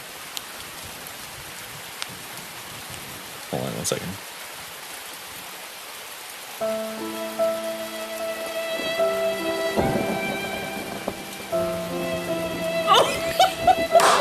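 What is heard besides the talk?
rain sound effect with thunder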